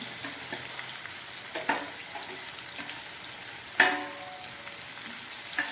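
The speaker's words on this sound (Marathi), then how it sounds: "आपण आता या ठिकाणी आपला कांदा तेलामध्ये फ्राय करून घेणार आहोत" Onion frying in oil over a high gas flame, a continuous bright sizzle with occasional louder crackles and pops, and no one talking.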